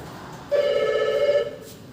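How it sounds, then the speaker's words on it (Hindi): A telephone rings with an incoming call, one sustained electronic ring tone that starts abruptly and holds steady for about a second before cutting off, close and clear over a quiet background. "फोन आ रहा है भाई।"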